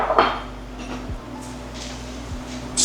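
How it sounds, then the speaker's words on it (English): A spoon stirs breadcrumb stuffing mix and stock in a pot for sausage stuffing. A few sparse metallic clinks and knocks on the pot rise over quiet kitchen background, close and without talk. "Stir that all around."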